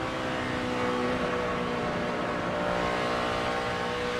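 A NASCAR race car engine at Texas holds a steady, loud roar as the car stays on the throttle through turns three and four, the sound continuous and unbroken with no lift.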